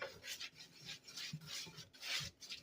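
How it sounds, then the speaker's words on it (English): Chocolate zucchini bread batter being whisked in a bowl, with close, quiet scraping strokes in an uneven back-and-forth rhythm and no voices. "I'm just going to whisk that in really good"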